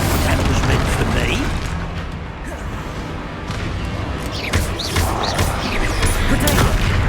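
Rapid spell blasts from Confringo and Bombarda go off in Hogwarts Legacy, a dense run of booming, popping bursts over continuous loud game noise with scattered voices.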